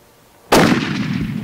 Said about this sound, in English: Shoot very low in the grass.